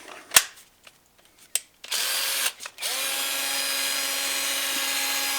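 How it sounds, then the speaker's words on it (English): A few clicks and taps, then an entry-level Warrior cordless drill whirs up to a steady high-pitched spin, briefly stopping once before running continuously. "this is a perfectly fine entry-level drill"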